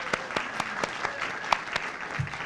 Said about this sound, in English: if we could all just give the Lannan Foundation a round of applause